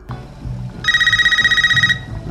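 A house telephone in the movie Scream (2022) rings in a steady electronic trill lasting about a second, loud over low background room noise.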